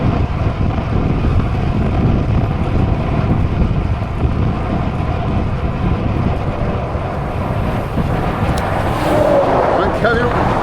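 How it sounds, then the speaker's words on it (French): A truck passes a cyclist on a road near Villemur-sur-Tarn, a steady engine and tyre rumble under strong wind buffeting on the microphone, close and continuous. "Un camion."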